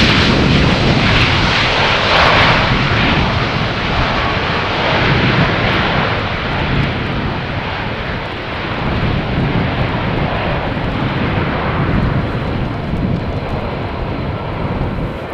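Passenger airplane landing on runway 18R at Amsterdam Schiphol in crosswind, its engine roar loud and steady throughout without voices.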